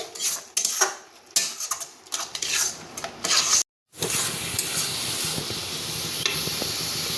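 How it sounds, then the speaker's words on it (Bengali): Banana stem paste with mustard oil and green chillies sautés in a pan, and a metal spoon clanks and scrapes against the pan in quick strokes. A brief silence breaks the stirring, and a dense, loud sizzle follows. "এবার এটা ভালোভাবে কষবো মানে যতক্ষণ না এটা গা ছেড়ে যাচ্ছে"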